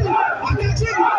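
Crowd at a football match in Akatsi cheering loudly together, a dense roar with surging low shouts that swell and dip without a break.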